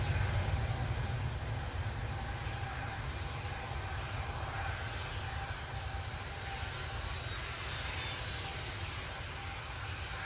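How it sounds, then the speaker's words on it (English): A Jet2 jet airliner lining up for departure at Newcastle airport, its engines giving a steady, loud roar and whine that holds constant for about ten seconds with no voices. "Sound you can hear is another Jet 2 lining up."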